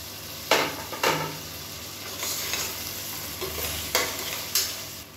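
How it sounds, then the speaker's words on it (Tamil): Ginger garlic paste sizzles in a hot pan while a spoon stirs it, with several sharp scraping strokes spaced apart over a constant frying hiss. "இஞ்சி பூண்டு பேஸ்ட் வந்து சேர்த்து நல்லா வதக்கி விட்டுக்கலாம்"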